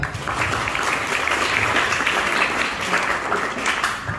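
Applause from an audience of maritime vocational school cadets at a fire department outreach session, a dense, steady wash of clapping that holds evenly for several seconds before easing off.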